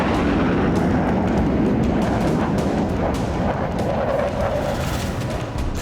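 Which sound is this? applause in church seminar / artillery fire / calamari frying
artillery fire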